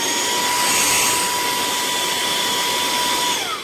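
Saker 3-in-1 handheld car vacuum cleaner running at its high speed setting, a steady loud whine with airy rushing and a high-pitched tone, continuous and close, then cutting off at the end.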